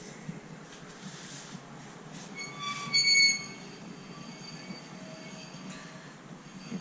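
A vintage National walking sprinkler's worm gear squeals in a thin, high, steady whine, swelling briefly louder near the middle over a constant low rumble of running water.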